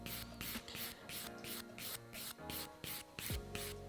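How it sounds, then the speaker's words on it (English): Hard gel nail being filed with the file side of a 240 grit 2-in-1 nail file: quick, regular scratchy strokes, about three per second, close and steady, with no talking. "I'm going to switch back to the file side of my 240 2-in-1"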